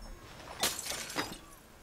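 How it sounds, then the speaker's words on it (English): Glass smashing in the video game Red Dead Redemption 2: two quiet, crisp breaking bursts about half a second apart, with nothing else around them. "Just smash the glass."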